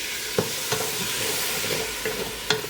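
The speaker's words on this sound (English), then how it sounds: "And now is a good chance to scrape everything up off the bottom" A spoon scrapes browned bits off the bottom of a pot for a dark, savoury stew, making a few distinct scrapes over a continuous close sizzle; no talking.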